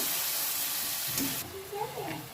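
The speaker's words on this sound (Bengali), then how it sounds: "লঙ্কা বাটা সামান্য জল দিয়ে দেবো এটাকে আমি কষিয়ে নেবো একটু" Chili paste with ginger paste and a splash of water sizzling loudly in a pan, a dense hiss that eases partway through as stirring scrapes and a voice briefly come through.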